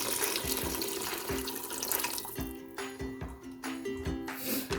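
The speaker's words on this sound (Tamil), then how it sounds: "இதில் வந்து ஒரு கப் அளவுக்கு வந்து தண்ணி ஆட் பண்ணுறேன்" Water is poured into an Instant Pot with rajma, a steady splashing flow that then breaks into several clinking, uneven pours nearby.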